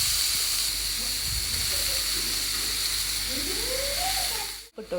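Onion dropped into hot oil already used for frying fish gives a steady, hissing sizzle that holds for several seconds before cutting off abruptly near the end.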